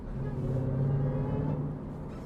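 Jeep Trackhawk with a 707-horsepower engine giving a steady, loud, deep roar up close, holding a low rumbling tone throughout with no voices over it.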